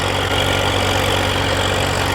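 Massey Ferguson 241 and New Holland tractors fitted with rotavators, heard as a loud, steady engine idle with a low, even throbbing rumble close by.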